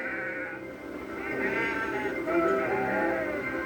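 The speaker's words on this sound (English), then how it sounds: "What, sheeps?" Sheep bleat in a cartoon, several wavering, overlapping cries in a flock at close range over a steady soundtrack background.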